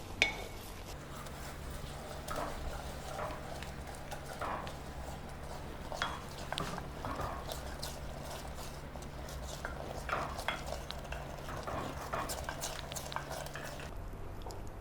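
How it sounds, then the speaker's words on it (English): Rice and dal being stirred into sugar syrup in a pan, with a steady run of soft scraping and clinking strokes over a low continuous hum, no talking. "Now let's add the rice and dal to it."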